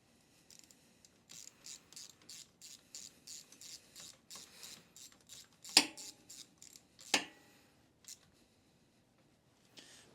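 A ratchet tightens a part on a Honda Fourtrax 300 ATV engine during a rebuild, sounding as a series of quiet, evenly spaced clicking strokes, then two sharper metallic clanks and a final faint tick.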